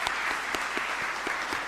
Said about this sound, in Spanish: Fuerte aplauso entonces para todos ustedes